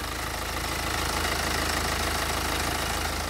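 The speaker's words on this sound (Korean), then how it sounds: "바로 엔진 소리 한번 들려드릴게요." A BMW X1 2.0D xDrive's four-cylinder diesel engine idles with the hood open, giving a steady, loud, even clatter and rumble that stays constant throughout with no speech.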